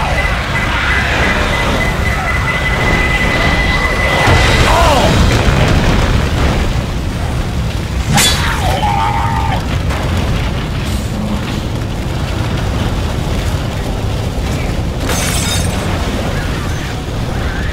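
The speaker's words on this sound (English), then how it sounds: "Pipe bomb out." A pipe bomb detonating in Left 4 Dead 2 in a hotel level, a heavy, sustained booming roar that fills the whole stretch with dense rumble and a couple of sharp bursts, loud and close.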